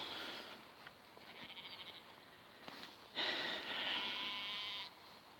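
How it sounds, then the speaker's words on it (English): Sheep on a farm bleating in a few faint, wavering calls at a distance, with a louder, longer bleat near the end over quiet outdoor background. "And Jesse, here are the sheep."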